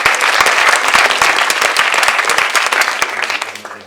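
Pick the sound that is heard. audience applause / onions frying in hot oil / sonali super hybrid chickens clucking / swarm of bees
audience applause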